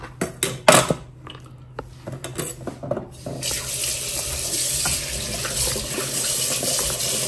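Hilsa fish pieces being washed under a running kitchen tap: a few sharp clatters and splashes, then a steady, loud rush of water that fills the rest of the time, with no talking.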